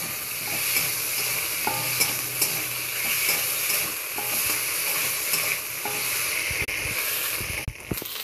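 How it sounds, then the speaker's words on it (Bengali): Green chili, ginger and garlic paste stirring and frying in a pan, a continuous bright sizzle with intermittent scraping and clinks of a utensil against the pan, close and steady with no talking. "এবার পেস্ট করা কাঁচা লঙ্কা, আদা, রসুন বাটাটা দিয়ে দেব। এবার ভালো করে নেড়ে চেড়ে ভেজে নেব।"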